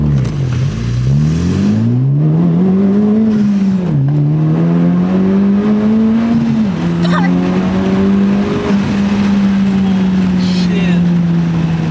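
A Honda Civic Type-R accelerates hard through the gears, its engine note climbing steadily in loud in-cabin drone, dropping briefly at each upshift near 2, 4 and 6.5 seconds before rising again, with occupants speaking over it.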